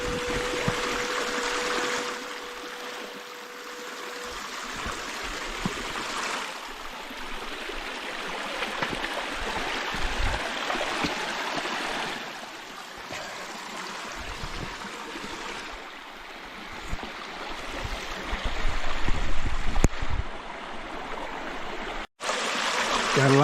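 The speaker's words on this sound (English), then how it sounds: "Gotta love these waterfalls." Water runs continuously over a small rocky waterfall in a creek while gold prospecting, a steady broad rushing splash heard close and alone, with a few brief knocks near the end.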